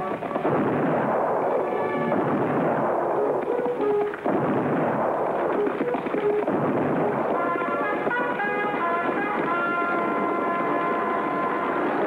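Cannon salute fired at a castle to greet a duchess, heard as a long continuous din of booming blasts with music over it.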